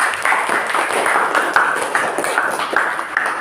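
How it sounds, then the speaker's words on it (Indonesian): A classroom of students clapping after a correct answer, a brisk, fairly loud burst of many hands in a fast uneven rhythm, close by and lasting a few seconds. "Tepuk tangan."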